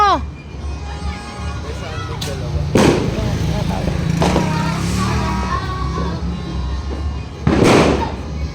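Several firecrackers bang at irregular intervals on New Year's Day, sharp and booming, over a background of street noise and people talking.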